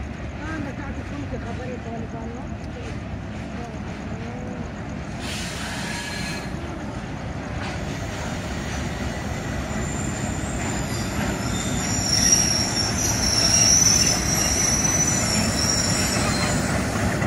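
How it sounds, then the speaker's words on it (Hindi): The Thal Express approaches Jand Junction at dusk, a continuous loud rumble of wheels on rails with drawn-out squealing, swelling steadily louder as the train nears the platform. "तकरीबन 15 मिनट डिले के साथ 129 अप अप्रोच कर रही है जंड जंक्शन पे"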